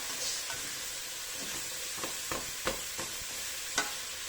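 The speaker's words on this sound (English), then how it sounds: "stir that round for 1 sec just to get them coated in the bacon fat" Vegetables stirred in bacon fat in a pan, a soft continuous sizzle under a few sharp scraping clicks of the utensil against the pan, fairly quiet and close.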